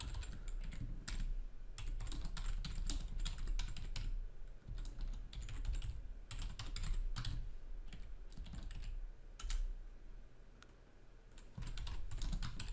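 Fingers typing code on a computer keyboard, a rapid, irregular patter of close key clicks in bursts with brief pauses, steady and unaccompanied by voice.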